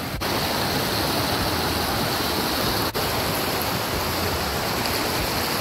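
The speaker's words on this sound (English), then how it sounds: "there's a log creating this waterfall" A waterfall pours over a log in a Michigan Upper Peninsula canyon, a loud, steady, close roar of rushing water that runs without a break and covers everything else.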